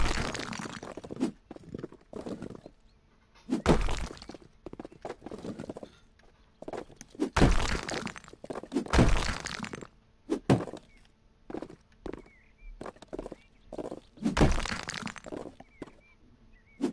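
A wall being knocked down in House Flipper, with repeated heavy thuds and cracking crashes in irregular bursts separated by quiet pauses.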